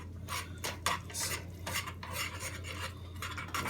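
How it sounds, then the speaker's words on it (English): Homemade gummy bear mixture being stirred in a bowl, a continuous close scraping and rubbing of utensil against the container with irregular strokes and no talk. "So now we are going to mix this here."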